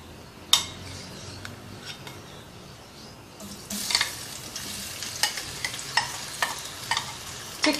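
Chicken hits hot oil in a pan and fries with a steady sizzle that swells louder midway, while a utensil scrapes and clinks against the pan in repeated stirring strokes.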